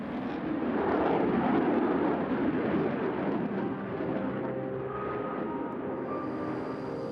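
A Eurofighter Typhoon jet roars on takeoff, a loud broad rumbling blast that swells early and then holds as a sustained engine roar, heard without any talking.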